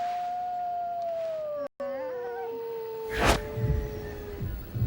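A recorded wolf howl played back: one long, sustained tone that slowly falls in pitch, briefly cut by a short dropout, then joined near the end by a burst of broadband noise and rustling.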